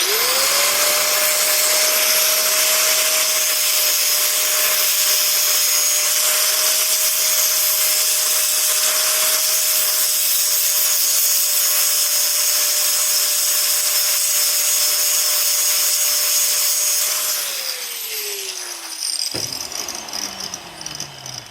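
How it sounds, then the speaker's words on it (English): An angle grinder fitted with a cut-off disc grinds steel while repairing a latch for a BMW E30 pop-out window, a loud steady high whine held for many seconds before the disc winds down and slows to a stop. "You're not supposed to grind with cut-off discs"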